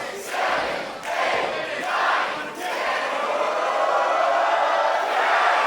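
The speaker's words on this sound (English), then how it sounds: "this raucous crowd here inside the Maritime Labor Center counting along" A raucous crowd at a professional wrestling show inside the Maritime Labor Center chants in unison, shouting a count in loud rhythmic bursts about a second apart before breaking into sustained cheering.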